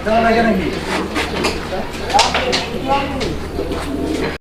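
Several pigeons, pairs of pure-bloodline breeding birds kept for sale, coo repeatedly at close range while people talk over them.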